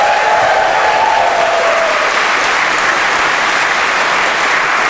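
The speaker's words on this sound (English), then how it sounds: "if we could get a round of applause to get this thing started" Live audience applause at a fantasy draft event in Chicago, loud and sustained across the whole stretch, a thick even wash of clapping with a brief whoop near the start.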